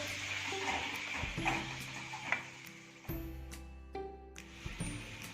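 Raw chicken pieces are stirred with salt and baking powder, giving soft, wet squelching and scraping against a bowl in a quiet kitchen, with light clicks and no talking.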